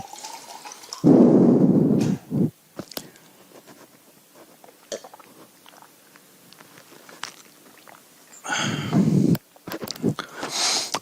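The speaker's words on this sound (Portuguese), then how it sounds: "enquanto eu bebo um copo d'água aqui" Someone drinks a glass of water during a Portuguese-language class, with two bursts of gulping and swallowing close to the mic, separated by quiet small noises.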